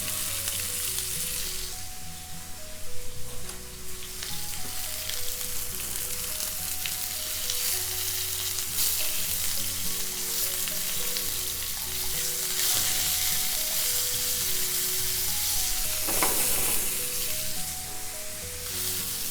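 Tuna fries in a pan with a loud, continuous sizzle and occasional sharper spits, while soft background music plays underneath.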